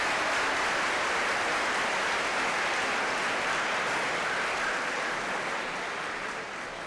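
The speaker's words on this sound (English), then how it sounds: "I want to give a round of applause to the men up there." Sustained applause from an audience at a county executive debate, a steady dense wash of clapping that holds evenly throughout and fades only slightly at the end, with no voices standing out.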